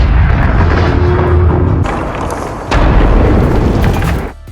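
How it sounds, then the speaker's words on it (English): Landmine blasts flipping two armored vehicles, a loud, heavy, sustained roar of explosions with deep rumbling and a sudden jolt partway through, filling the whole stretch before cutting off. "they unfortunately encountered enemy-planted landmines. 2 armored vehicles were flipped over by the explosions"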